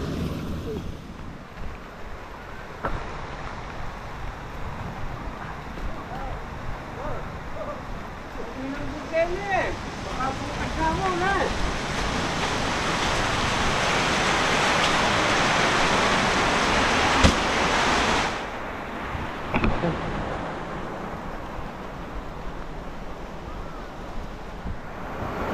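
Heavy rain pouring down in the open during a corn harvest, a steady broad wash with gusty wind rumble that builds mid-way, under and between voices talking.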